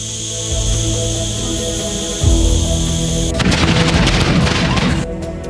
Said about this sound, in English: Fun poofing propane tanks.